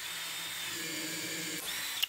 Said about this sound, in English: The drill attachment riveter, 2 thumbs up again.